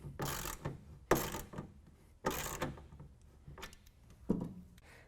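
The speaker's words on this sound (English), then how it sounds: "we're going to go ahead and tighten down each one of the clamps with a 1/2 inch wrench" A 1/2 inch wrench tightens the clamps of a Gator Evo hard folding tonneau cover on a 2014 Toyota Tundra, giving a few separate bursts of ratcheting clicks with quiet pauses between them, close and moderately loud.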